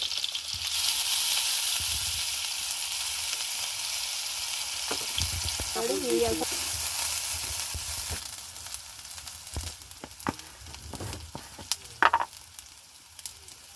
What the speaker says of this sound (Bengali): তেল দিয়ে দিয়েছি, এবার দিয়ে দেবো 5 ফোড়ন, দেবো একটু পেঁয়াজ কুচোনো, আর দেবো আদা রসুন বাটা।